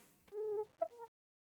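Chicken sounds from the Minecraft video game: two short, clean clucking calls, the first longer and the second a quick double note, heard alone and clear.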